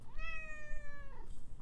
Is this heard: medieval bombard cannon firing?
no